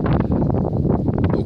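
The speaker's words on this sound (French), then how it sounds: "Aujourd'hui, on a un vent quand même assez prononcé," Strong northwest wind blows outdoors, buffeting the microphone with a loud, continuous low roar and irregular gusts throughout, with no voices.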